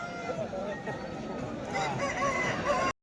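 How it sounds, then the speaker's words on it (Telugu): Roosters crow at a poultry market, several overlapping calls standing out over a constant background din, fairly near and steady throughout. "ఇక్కడ కనిపిస్తున్న సేతువా పుంజు కూడా మన నాగరాజు అన్న"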